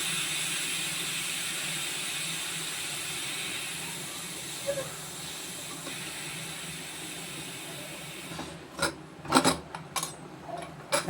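A stovetop pressure cooker holding tamarind curry with dried vathal is opened slowly: a steady, loud hiss of escaping steam runs for several seconds, then gives way to sharp metallic clicks and rattles near the end.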